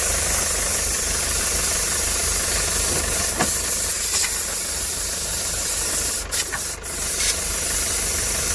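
Compressed air hisses in a loud, continuous rush across the engine bay of a D4D turbo diesel Hiace, blowing dirt off a nut, with a couple of short breaks near the end.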